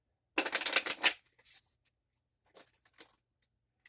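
A deck of playing cards being riffle-shuffled up close: one crisp, rapid flutter, then quieter taps and a second brief ruffle as the cards are squared up.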